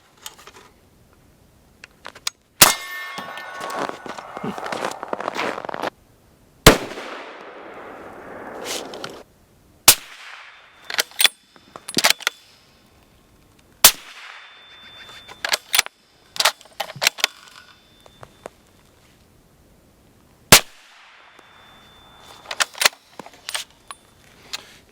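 Sharp gunshots from a rifle fitted with a flash hider, a series of loud, isolated cracks separated by gaps of several seconds, some trailing a brief ringing decay, with quieter handling clicks and rattles between them.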